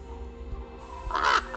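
A raven gives a single harsh caw near the end, faint and alone against a quiet hum, with no other sounds around it.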